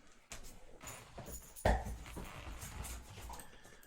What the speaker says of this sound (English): dumb dog. Ran in front of the ball and got hit in the face with it